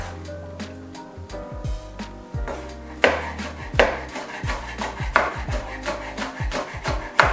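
A Scotch bonnet pepper chopped with a knife on a board for Trini-style pepper shrimp, a close, steady run of sharp chops that grows louder partway through, with faint kitchen clatter underneath.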